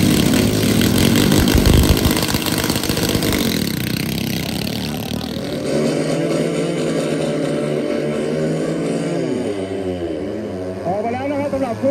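A single-piston, lawnmower-type engine on a drag-racing riverboat in rural Thailand runs loudly with a buzzing drone, then settles into a rougher idle that rises and falls in pitch.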